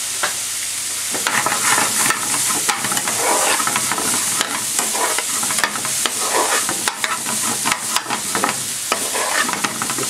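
Red peppers fry in a pan for lamb balti, with a loud, close sizzle and constant scraping and stirring throughout.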